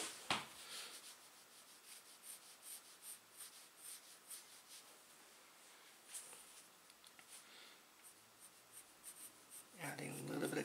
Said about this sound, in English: Add a little bit of gradation with a pencil,